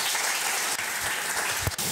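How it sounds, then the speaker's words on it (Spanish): Loud, dense applause from a large audience welcoming a conference speaker fills the whole short moment. "Lo recibimos con un fuerte aplauso."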